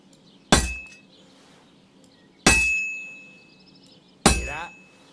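Three loud metallic hammer strikes on an anvil during blacksmith forging in the medieval video game Kingdom Come: Deliverance 2, each ringing clang decaying for over a second before the next, evenly spaced, with no talk.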